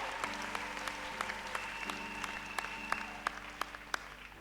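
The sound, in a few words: church congregation applauding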